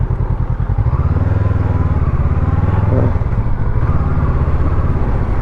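Honda NX500 motorcycle with a 471cc liquid-cooled parallel twin engine, running with a loud, steady, throbbing rumble that holds close and constant throughout, with no talk over it.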